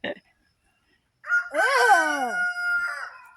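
A rooster crows once, loud and close, with a long drawn-out call after a brief short squawk and a moment of silence.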